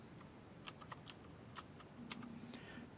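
Scattered keystrokes on a computer keyboard while a name is entered in mySewnet embroidery software, a dozen or so light, close clicks in uneven bursts over steady room noise, with no talk.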